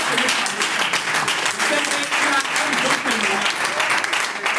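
Loud crowd applause at a product training event in Togo, a thick continuous roar of clapping as a general is called forward, with voices talking and calling out underneath.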